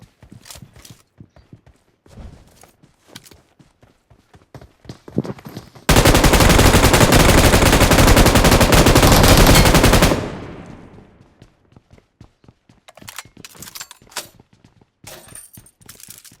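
Scattered sharp video game gunshots and clicks give way to a long, dense burst of continuous rapid fire, then more sporadic shots follow.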